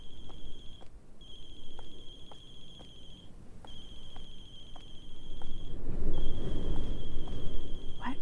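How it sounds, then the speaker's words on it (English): Harsh electronic phone ringtone in a horror video game, ringing in repeated bursts of about two seconds with short gaps, steady in loudness over a low rumbling ambience that swells toward the end. "what a horrible ringtone"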